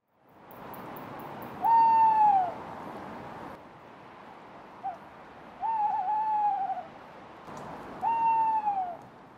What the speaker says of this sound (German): Vereinzelt hörte man noch einen Uhu rufen.